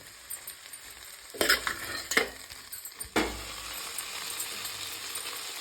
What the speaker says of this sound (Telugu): మళ్ళీ ఒకసారి కలపాలి. ఇట్లా కొంచెం అడిగట్టుకుంది కదా కలుపుకోవాలి.